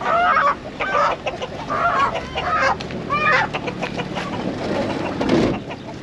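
Clucking chickens and roosters crowd a busy poultry market in Taşköprü, Turkey, with bursts of crowing and general background bustle throughout.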